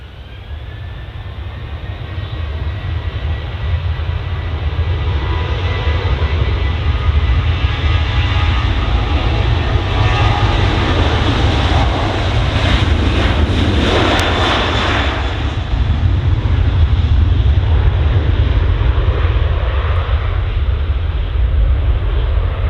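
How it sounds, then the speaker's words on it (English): A Ryanair airliner on its takeoff roll gives a loud, steady roar of jet engines, with a deep low rumble and a broad hiss that holds strong throughout and swells slightly midway as the aircraft accelerates. "Okay, Ryanair is on the roll."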